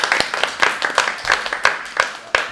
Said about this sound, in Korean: 귀한 시간 내주신 코치님에게 박수 부탁드립니다.